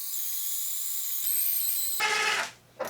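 A cheap 1/4 inch bit spins in a power drill with a steady, loud high-pitched whine, then bites into the workpiece for a rougher, broadband grinding burst before stopping abruptly, with a brief spin-up at the end.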